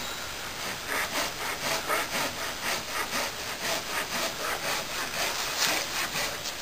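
A hand saw cuts through wood outdoors for a bushcraft raised bed, in a steady run of rhythmic rasping strokes, close and fairly loud, with no talk over it.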